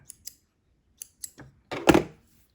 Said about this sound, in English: And then trim your thread.